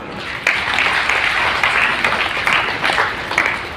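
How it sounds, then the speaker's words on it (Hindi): An audience at a motivational training program led by Dr. Shaktiraj claps steadily, the applause dense and moderately loud, with a few sharper claps standing out. "आपको अच्छा लगेगा तो ताली बजाना।"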